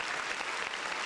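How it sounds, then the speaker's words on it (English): Applause from a small podcast studio audience, a brief, steady burst of clapping that fills the whole moment without any talk over it. "Round of applause."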